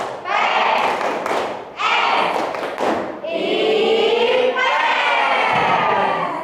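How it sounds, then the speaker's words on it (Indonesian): A classroom of Indonesian schoolchildren performs the tepuk IPS clapping chant, loud rhythmic claps and thumps in bursts alongside shouted chanting voices, close and energetic. "kemudian sekarang tepuk IPS"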